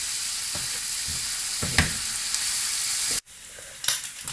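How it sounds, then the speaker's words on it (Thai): Bacon, celery and onion stir-fry in a pan for a clam soup, producing a soft, continuous sizzle with a few light stirring scrapes and a brief sharp clatter near the end, no talking. "เราจะผัดจนกว่าเบคอนจะเริ่ม จะเริ่มมีกลิ่นออกมา และ จนกว่าเซลลรี่และหอมหัวใหญ่จะเริ่มใสครับ"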